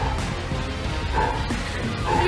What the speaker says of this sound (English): you can hear my dog barking in the background